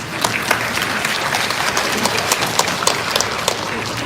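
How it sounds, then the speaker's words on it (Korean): A hall audience at a school sports-team parents' education session breaks into steady, dense applause, many hands clapping together at a constant level throughout with no voices on top. "박수 한번 주시죠."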